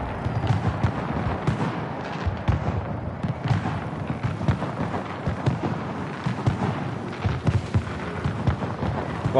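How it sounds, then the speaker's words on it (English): Fireworks display in Star Wars Outlaws bursting in the distance, a continuous rumble of overlapping booms and crackles with dense, uneven thumps throughout. "Firework display going off in the distance."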